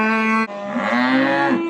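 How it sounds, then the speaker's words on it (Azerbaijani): At a livestock market, a calf lets out a loud, close, sustained moo that breaks briefly and then continues in a long drawn bellow. "Bax belə bir dana var."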